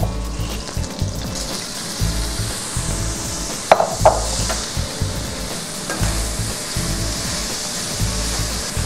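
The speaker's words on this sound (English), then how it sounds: "cook this around in our wok for about a minute and a half just to flavor the oil" Garlic and red pepper flakes sizzle in hot oil in a wok, a steady close crackling hiss broken by a few sharp scrapes and clinks as the mixture is stirred around.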